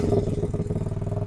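A Honda CL50 motorcycle with a 70cc engine and a modified clutch idles close by, a smooth, low, even putter with a quick regular pulse.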